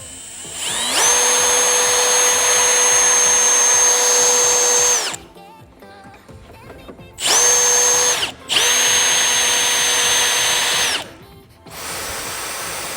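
A power drill with cobalt bits bores into metal during an aluminium radiator install on a turbo Subaru Impreza: three loud, close, sustained whining bursts separated by short pauses, with no talk.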